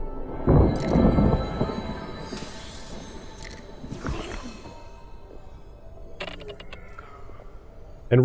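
Thunder rumbles low and heavy in the Mind Over Magic video game, with a deep burst early on and softer rolls over a steady hiss of rain. A few sharp crackles and clicks come near the end.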